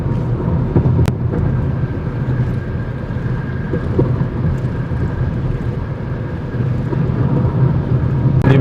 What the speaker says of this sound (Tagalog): Guys, pakinggan nyo yung tunog ng Sail 5 pagka in high speed.